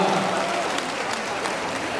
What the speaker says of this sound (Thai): อยากให้ทุกคนปรบมือดังๆให้กับบีสแนปหน่อยครับ